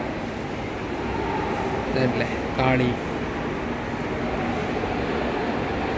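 A continuous loud rumble of a metro train passing at Dakshineswar Metro Station, Kolkata, fills the space, with a voice speaking briefly over it in the middle.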